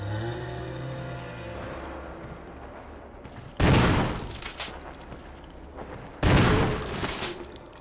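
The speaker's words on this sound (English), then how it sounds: "Buddy, that was two shotgun shells too many." Two heavy shotgun blasts from a Resident Evil game, each a loud, sharp boom with a ringing tail, a few seconds apart, following a quieter stretch of tonal game sound.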